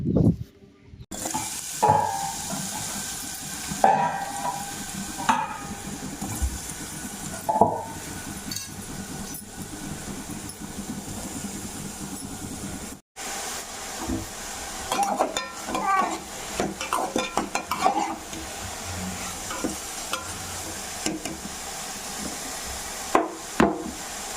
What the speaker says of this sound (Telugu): అదే కళాయిలో కొంచెం ఆయిల్ పోసి ఈ బీరకాయ ముక్కలను కూడా ఫ్రై చేసుకోవాలన్నమాట